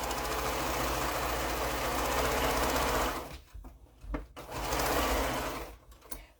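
A sewing machine stitches quilt block pieces together in a steady, fast whirring run for about three seconds, then stops and restarts in short bursts with pauses and small handling clicks between.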